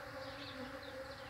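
Bees buzz steadily close by around a flowering ora-pro-nobis plant, a continuous droning hum with slight rises as they move around.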